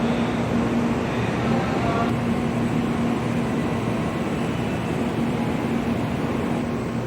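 Shinkansen N700 Supreme train of JR Central, set J15, at Hakata Station at night, giving a steady loud rumbling roar with a sustained low hum throughout, no voices.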